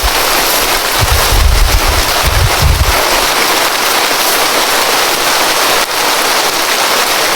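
Rain falls outdoors in a steady broadband wash, with a few low rumbling thumps early on over the continuous patter.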